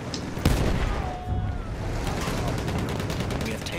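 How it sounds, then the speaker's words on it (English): Machine gun fire in the Battlefield video game, a loud, dense battlefield din with a sharp shot near the start followed by steady rattling gunfire and rumbling. "Enemy machine gun, sighted!"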